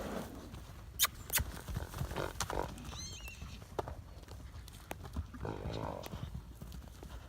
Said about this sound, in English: Silly horses.